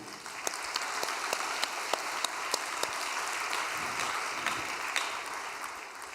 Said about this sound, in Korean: 우리 김효연 청년에게 박수 한번 올려드립시다